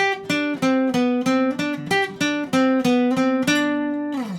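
A bright acoustic guitar plays a quick, repeating riff of plucked notes imitating an electric guitar part from a song, with a steady bouncy rhythm, ending on a ringing strum; no voices.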